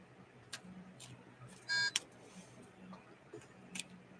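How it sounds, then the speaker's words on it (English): A faint electronic beep chirps briefly in the background of a quiet room, alongside soft ticking clicks, distant and low in level. "I hope my beeping in the background isn't driving you guys crazy"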